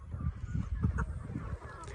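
A crowd of free-range desi chickens on a farm squawks and clucks in quick, overlapping bursts, close by and fairly loud.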